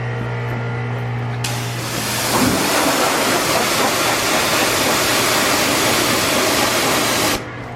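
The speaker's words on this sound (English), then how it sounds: "So I pressure washed that one spot for quite some time" Pressure washer with a 25-degree tip blasting mud off a dirt bike, a loud, steady roaring hiss that starts abruptly and runs several seconds over a constant motor hum before cutting off.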